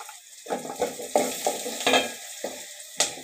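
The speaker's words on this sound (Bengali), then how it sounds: "এখানে আস্ত জিরা দিয়ে নিচ্ছি, একটু নেড়ে চেড়ে নিলাম" Whole cumin seeds sizzle in hot oil while being stirred for a khesari dal khichuri, with several close scraping stirs and crackling bursts in an irregular rhythm, with no talking.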